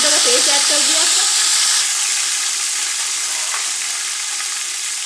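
Garlic ginger paste frying for beef haleem in a pot, a loud continuous sizzle and hiss with steady stirring, close up, briefly accompanied by a faint voice at the start.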